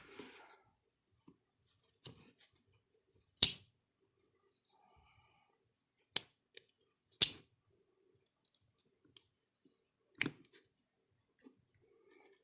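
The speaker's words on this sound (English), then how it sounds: "let's see if there's any wobble on the pen blade" The pen blade of a 2020 Hammer Brand 4.5-inch English Jack pocketknife with brown pick bone handles gets wiggled, giving a few sharp, isolated metallic clicks spread across an otherwise quiet stretch.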